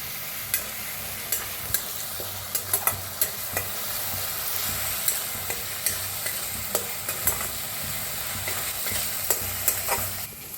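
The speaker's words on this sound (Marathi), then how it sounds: "थोडंसं हिंग पेस्ट बनवून घेतलं ते टाकूया कढीपत्ता तर छान असं भाजून घेऊया" Curry leaves and asafoetida paste added to hot oil with cumin in a pan, giving a quiet, steady sizzle dotted with small crackles and pops throughout.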